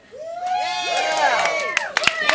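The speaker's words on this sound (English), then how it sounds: "What the fuck are you clapping for?" Audience at a comedy show erupting in cheers and whoops that build quickly, with a few sharp claps near the end, a dense crowd close and loud.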